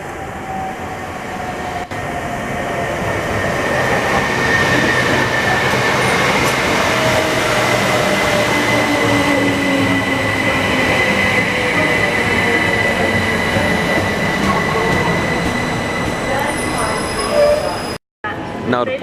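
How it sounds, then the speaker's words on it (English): A Southern Railway train rolls into Bletchley station, a loud sustained rumble of wheels on rails with faint squeals and rattles, building and holding steady before easing off near the end. "Now arriving in is a Southern Railway service to Milton Keynes Central."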